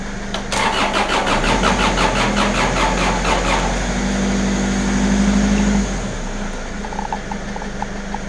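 A diesel mower engine cranks over and over in a rapid rhythmic starter churn without catching, loud and close, then the cranking stops and a quieter hum remains.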